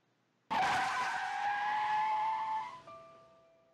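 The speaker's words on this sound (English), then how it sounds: "Someone fucking pushed us in front of a car." A car skids loudly in the video game Amnesia: Memories, a sudden sharp tire screech that sustains for about two seconds, then fades into a lingering ringing tone.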